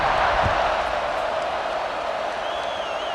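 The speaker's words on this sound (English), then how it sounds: "this crowd is buzzing after that last score" A stadium crowd buzzing in the EA Sports College Football 26 video game, a steady, loud wash of murmuring and cheering fans filling the air throughout, with no distinct voice on top.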